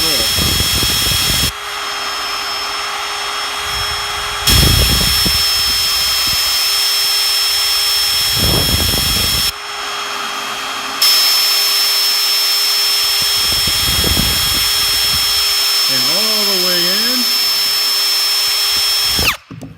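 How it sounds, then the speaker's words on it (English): A power drill pre-drills a hole at a marked X, whirring in several bursts with pauses between, loud and close, with a steady background hum. "I'm going to start it right in the center of my X, hold down on the other end, and I'm going to start drilling my hole."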